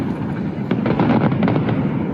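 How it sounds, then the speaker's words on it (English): Fireworks burst continuously over Hokkaido, heard from a hillside as a dense, loud rumbling crackle of overlapping pops and booms with no gaps. "Oh, we made it to the fireworks."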